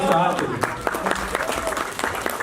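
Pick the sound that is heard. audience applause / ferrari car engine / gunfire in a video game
audience applause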